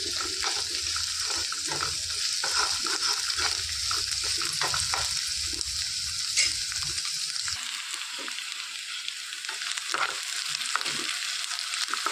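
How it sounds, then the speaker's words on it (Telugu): Chopped onions frying in a pan give a constant close sizzle and hiss, with occasional stirring scrapes, steady throughout and no talking. "ఉల్లిపాయలు అనేవి రెండు నిమిషాల పాటు వేయించుకోవాలి"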